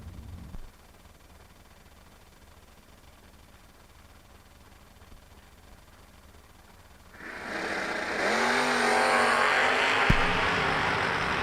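Drag race cars, including the GHR Camaro, launching at a drag strip: a quiet stretch, then a loud, sustained engine roar that swells in at the start and holds steady to the end.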